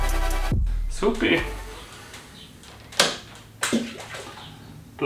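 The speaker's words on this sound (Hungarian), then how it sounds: "Na, ez leesett az aknába, amit halljátok, amiben víz van." A Skoda 120 car part dropping into a water-filled service pit gives a sharp splash and slosh, followed by a couple of short clanks and splashes, with someone talking at close range.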